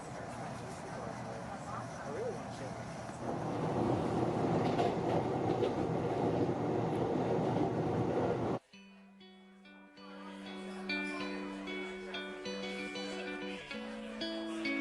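Inside a first-class carriage of an Amtrak Acela train heading north out of Penn Station, a loud, steady rumble runs for several seconds, then drops abruptly to a quieter cabin with sustained tonal chimes.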